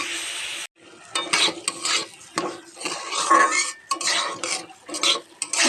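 Soaked Gobindobhog rice is stirred and fried in ghee in a pan for payesh: close, busy scraping and clanking of a spoon against metal over a soft sizzle, coming in irregular bursts.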